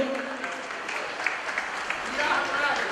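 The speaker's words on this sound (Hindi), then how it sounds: "ताली से स्वागत करियो" An audience at a community awards event applauds to welcome a performer, a steady moderate clapping that swells slightly toward the end.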